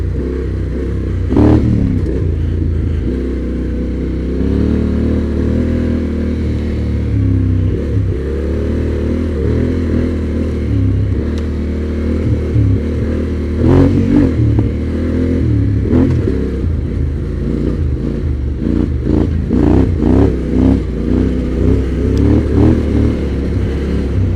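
Motorcycle on Tusk D Sport adventure tires riding through sandy trail turns, the engine droning and revving steadily under the rider's throttle, with occasional clatter and gravelly scuffs, close and loud throughout.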